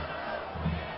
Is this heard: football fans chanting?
yes